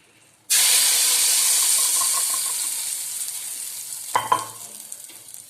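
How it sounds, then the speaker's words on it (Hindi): Hot ghee poured onto cooked mixed-pulse daal bursts into a loud, sudden sizzle that slowly fades, followed by a brief clatter of stirring near the end. "अब मैं घी का तड़का लगाऊँ।"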